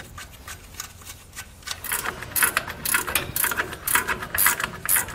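A ratchet tightens lock nuts on an electric trailer brake assembly, with a quiet lead-in followed by repeated bursts of sharp, close clicking strokes.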